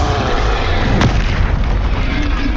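Incendio fire spell cast in Hogwarts Legacy, a loud single booming burst with a sharp crack, then a sustained heavy roar that carries on steadily to the end, with no speech.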